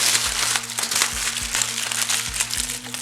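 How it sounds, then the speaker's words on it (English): A sheet of tin foil crumpled up by hand, giving a few crinkling, crackling bursts close to the mic over a steady low hum. "Then you're going to crumple it up."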